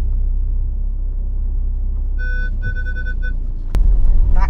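A campervan reverses up a driveway with a loud, steady engine rumble close by. Faint repeated tonal beeps come partway through, then a sharp click and heavier rumble near the end.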